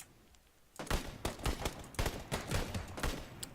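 Rapid gunfire rattles out in bursts during a battle royale video game, several quick volleys of shots following one another at a steady, fairly loud level with no talking.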